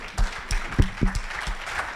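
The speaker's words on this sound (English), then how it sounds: "Give a round of applause to Clemens." Brief applause from an audience at a startup pitch evening, heard as a few sharp claps over a low murmuring room with some faint background voices.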